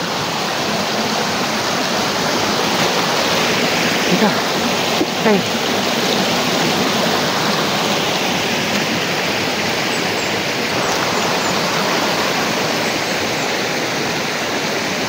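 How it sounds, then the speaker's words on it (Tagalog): Loud, steady rushing of a strong stream fills the whole stretch, broadband and unbroken, with brief spoken words heard over it. "malakas na agos ng tubig."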